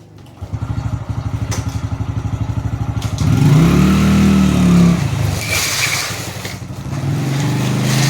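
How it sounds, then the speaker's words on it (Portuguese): A motorcycle hauling a load of firewood, its engine chugging in a quick, even pulse up close before revving hard and straining as the load moves, then settling into a steadier drone. "vamos tentar arrastar na moto"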